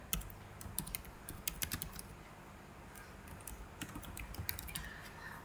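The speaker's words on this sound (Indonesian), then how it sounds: "silakan kalian ketik di sini namanya tadi sesuai" Fingers type a name on a computer keyboard, a quick stream of light, irregular clicks at close range with brief pauses between bursts, no speech.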